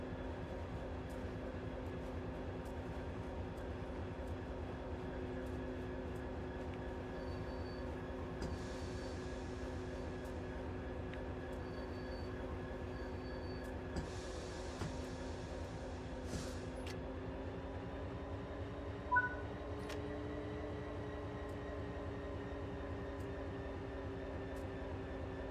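A single locomotive with no cars runs in Train Sim World 5, its engine giving a steady low drone with layered hum and a slight pitch shift partway, joined by occasional clicks and short beeps.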